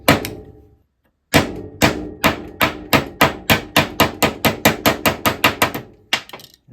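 Rapid metallic tapping on a flat scraper set on a Husqvarna 44 chainsaw: a single knock, a pause, then about a dozen quick, evenly spaced hits that speed up slightly, close and fairly loud.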